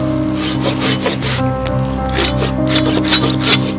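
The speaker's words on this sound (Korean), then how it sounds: "몇 번의 톱질 끝에 나뭇가지는 금세 잘려졌습니다." A hand saw cuts through a tree branch in a few rhythmic back-and-forth strokes, loud and close, with a rasping wooden scrape and no talking.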